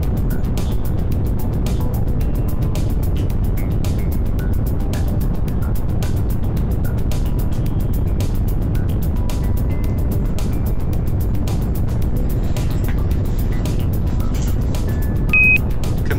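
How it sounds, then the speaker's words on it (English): Rocket engines igniting and lifting off in the Space Agency video game, a steady, loud low rumble of roaring thrust that holds throughout, with a faint high electronic beep near the end. "5, 4, 3, engine start, 1, booster ignition and lift off."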